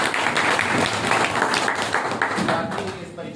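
Loud, dense applause from an audience at an anti-drug workshop welcoming the school principal, continuous clapping that tapers slightly at the end.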